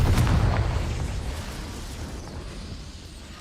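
A Confringo fire spell bursts in a video game with a sudden loud blast, then a rumbling tail that fades steadily over a few seconds.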